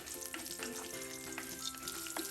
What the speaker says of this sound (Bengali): দুইটা এলাচি আর চুই চাল এটা দিয়ে দিলাম দিয়ে ভালো মতো করে নাড়াচাড়া দিচ্ছি